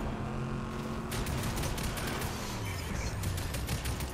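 Video game gunfire in Fortnite, a dense, continuous burst of rapid shots with clattering impacts, loud and close, running through the whole stretch with no talk over it.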